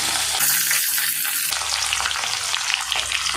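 Steady, loud sizzling of small onions (shallots) frying in hot oil in a pan for dried fish curry, a continuous crackle with no talking.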